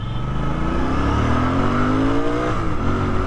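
A Royal Enfield Bear 650 motorcycle engine revving up, a loud close rumble whose pitch climbs steadily and then dips slightly near the end, with no talking.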